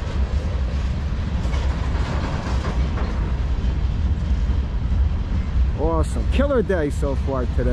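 A long CSX freight hauling loaded tankers rumbles steadily past at close range with wheel clatter, and someone talks over the noise near the end.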